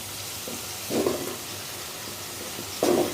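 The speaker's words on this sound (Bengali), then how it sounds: "তেল দিয়ে আমি যে কচুর গাঁটিটা দিয়ে দিচ্ছি" Taro pieces fry in a little oil, a steady soft sizzle broken by two louder spattering bursts as the pieces are stirred, with no talk.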